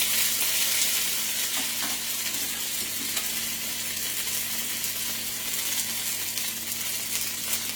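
Sweet potato gnocchi sizzle and fry in an oil-filled pan, a dense continuous crackle and hiss with occasional louder pops, steady and close for several seconds without speech.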